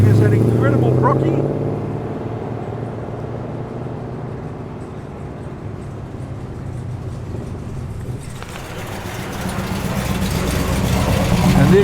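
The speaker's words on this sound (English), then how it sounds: "And there goes that XW Ute." A Ford XW Ute pulls away from a car show in Tempe, Sydney, its engine rumble loud at first, then easing off as it moves away, with someone talking over it.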